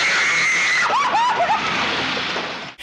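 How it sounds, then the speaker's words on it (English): A woman screams in an old MGM Hollywood film scene as a car runs out of control in the rain, with shrill rising and falling wails over a steady rushing wash of rain and movie score. "she's just screaming like the car's out of control"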